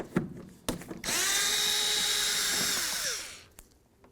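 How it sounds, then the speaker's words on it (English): Power driver with a T27 Torx bit whines steadily for about two and a half seconds while backing out bolts from a Ford Edge front door, its pitch sagging as it stops, with a few tool clunks before and after. "we're going to remove these 3 bolts with a T27"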